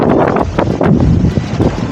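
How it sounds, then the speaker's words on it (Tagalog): Strong gusts buffet the microphone on a red sand beach, a steady loud roar with rushing surges and no talk. "masyadong malakas yung hangin"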